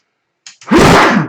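A single loud, close sneeze bursts out after a short sharp intake of breath, abrupt and forceful against near silence, during a tabletop board game session.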